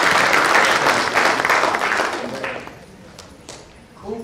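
A school batch reunion crowd applauds the teachers, strong dense clapping for about two seconds that then tapers off into a few scattered claps, with a voice starting faintly at the end.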